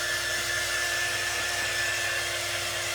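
Handheld hair dryer blowing steadily at close range, a continuous broadband whoosh with a faint whine, alone with no talk.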